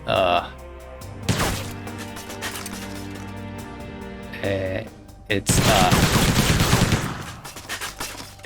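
Rifle gunfire rings out in a stealth-action video game, loud sharp shots in bursts with echoing tails, heard close and interleaved with stretches of someone talking.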